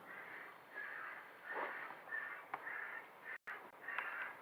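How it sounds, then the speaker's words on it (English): Crows caw repeatedly in a series of harsh calls at Leeds Bradford Airport, moderately distant, with no talking. "Looks like Checker's out scaring the birds, making silly noises."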